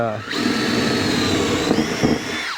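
Trusty power drill boring pocket holes in boards for a pantry shelf and cubby cabinet build, a loud, continuous whining motor held for over two seconds with a brief pitch shift and rumble near the end.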